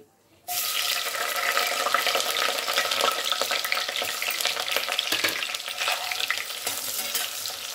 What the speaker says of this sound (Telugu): ఇది బాగా ఎర్రగా వచ్చేదాకా వేయించాలి